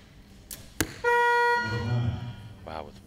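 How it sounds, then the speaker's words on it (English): A shot clock buzzer sounds at a compound women's team archery bronze final, Canada against Mexico, a loud steady electronic tone lasting about half a second after a sharp arrow impact, followed by crowd noise and a voice. "I think the arrow hit just as the buzzer was going off."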